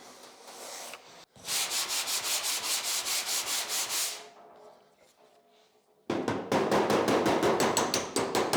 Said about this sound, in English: Let me get the sanding block and see how that looks.